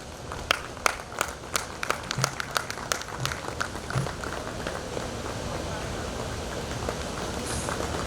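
Rhythmic clapping at a ground-breaking ceremony for a military academy, welcoming dignitaries; sharp claps at first, then blending into steady, dense applause with background crowd noise.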